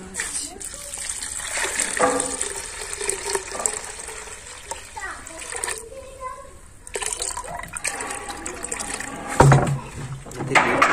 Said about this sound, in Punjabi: ਪਾਣੀ ਵੀ ਪਾ ਲਿਆ ਆ